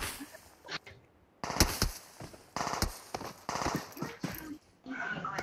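Gunfire in PUBG Mobile during a squad match on the Livik map, with sharp bursts and rapid volleys in clusters, fairly close, mixed with other game effects.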